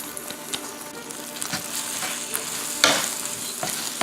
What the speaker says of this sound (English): So we're going to take those noodles that we drained, drop them down in here.